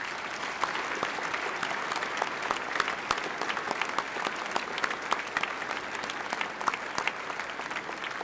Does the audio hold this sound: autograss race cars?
no